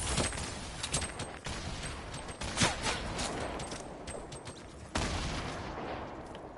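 Rapid gunfire rattles in bursts during a shooter video game, coming at the player from several directions, loud and continuous with sharp cracks and a heavy volley near the end, without talk over it.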